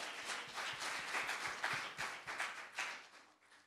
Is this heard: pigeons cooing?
no